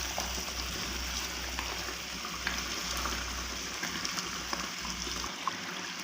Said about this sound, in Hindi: अभी हम इसकी अच्छे से भुनाई कर लेंगे।